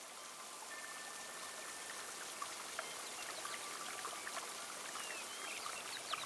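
Steady rain falling, a dense, even hiss of drops with occasional louder splatters, while faint bird chirps come through in the background.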